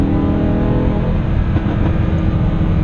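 A 2016 Lamborghini Huracan LP 580-2's engine roars steadily on the freeway while a couple of brief, sharp exhaust pops crackle over the rumble.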